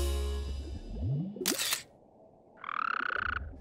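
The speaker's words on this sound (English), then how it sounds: "Hark! Another frog!" A frog croaks from an indoor tank, its tonal call rising out of a low rumble, followed after a brief pause by a steady, raspy trill that carries loudly to the end.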